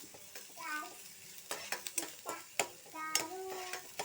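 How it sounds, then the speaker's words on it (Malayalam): Onions being stirred in a hot pan for a children's egg rice: close, rhythmic scraping and clinks over a light sizzle, with a voice now and then. "ഇപ്പോൾ ഇതേ സവാള ഇട്ട് കൊടുത്തിട്ടുണ്ട് ഒന്ന് ഇളക്കി കൊടുക്കാം"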